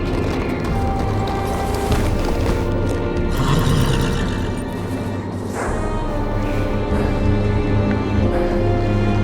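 A horse whinnies and its hooves clop in the video game Game of Thrones by Telltale, amid a dense, continuous layer of background music and ambience, steady and fairly loud throughout.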